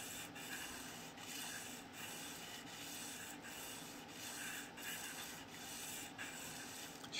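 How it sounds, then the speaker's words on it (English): Fine sandpaper rubbed evenly around the bevel of a needle to remove machining marks, a soft continuous rasping with a regular back-and-forth rhythm of strokes, close and fairly quiet. "sanding across the entire bevel all the way around evenly"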